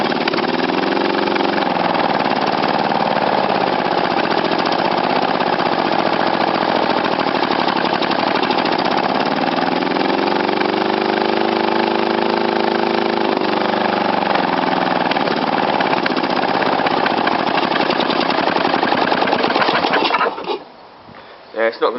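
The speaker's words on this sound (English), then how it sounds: "it's not going to idle because there's a screw missing and a gasket missing from around the inlet manifold down there" An 11.5hp Briggs and Stratton engine running after a cold start, with a missing screw and inlet manifold gasket, makes a loud, steady, close mechanical drone that wavers slightly before cutting out near the end.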